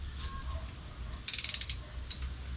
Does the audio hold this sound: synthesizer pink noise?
no